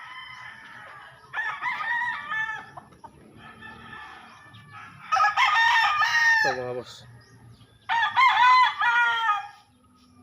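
Rooster crowing in bursts with chickens clucking around it, a black-and-white gamefowl bloodline on a small Filipino farm; harmonic crows rise loud several times over about ten seconds, with someone speaking briefly.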